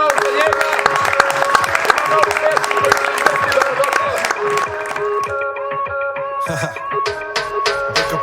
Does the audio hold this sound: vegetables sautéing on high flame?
no